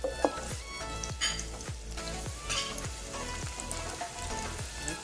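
Onion frying in a pan with bitter melon gives a continuous sizzle with spattering crackles and several sharp clanks of stirring.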